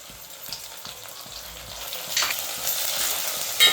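Tomato for cashew upma frying in hot oil makes a close sizzle with light stirring scrapes, building louder toward the end before a brief sharp crackle, with no talking.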